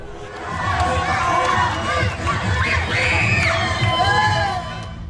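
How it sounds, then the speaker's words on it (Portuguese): A large crowd of supporters at a charity competition event cheers, whoops and shouts continuously, loud and close, with many children's voices and excited yells rising in waves throughout. "uma torcida insana, que carregou emocionalmente os nossos heróis em cada minuto de prova"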